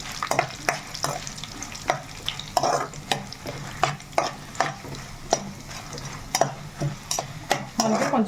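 Dried red chillies fry in a pan of hot oil, a constant sizzle punctuated by regular sharp clicks and scrapes of a spoon stirring against the metal.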